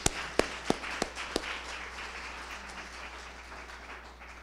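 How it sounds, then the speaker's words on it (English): An audience at a lecture on Ravenna's late antique and early Byzantine craftsmanship breaks into applause, a few sharp loud claps up front followed by a softer sustained patter that gradually fades. "by giving Salvatore a special round of applause."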